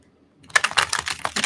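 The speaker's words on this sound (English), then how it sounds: "Let's do a really good shuffle for Virgo." Tarot cards being shuffled by hand, a quick run of crisp papery riffles and taps that starts after a brief silence and continues steadily, close up.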